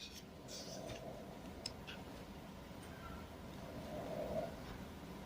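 Pen or pencil scratching across paper by hand, soft continuous scribbling strokes close up under steady room noise, with faint ticks and no talking.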